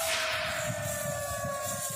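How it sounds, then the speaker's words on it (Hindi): A siren wails over Lhasa in a steady, sustained tone with a faint slow pitch drift, heard alone against a broad hiss of background noise. "लहासा की फिजाओं में सिर्फ सायरन की गूंज है।"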